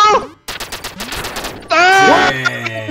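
Rapid bursts of gunfire from the arcade-style video game Duck Game, crackling in quick succession alongside excited player voices and other game effects.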